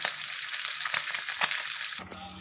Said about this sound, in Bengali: মাছগুলো ভাজতে বসিয়ে দিয়েছি